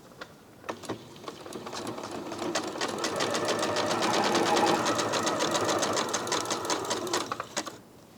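A sewing machine runs a zigzag stitch, about 2 millimetres long, on a quilt-as-you-go quilt block, a fast steady mechanical chatter that builds and holds for several seconds, then slows and stops.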